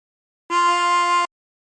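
A single harmonica draw note on hole 2, bent down to F, sounds as one steady reedy tone lasting under a second, close and clear against silence.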